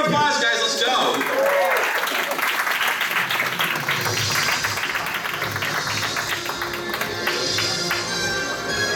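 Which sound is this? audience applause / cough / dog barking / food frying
audience applause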